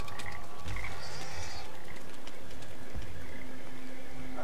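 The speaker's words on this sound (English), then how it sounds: "Oh, frogs!" Frogs croak in Papo & Yo, game ambience with scattered faint croaks and a few clicks over a soft background, with no talking.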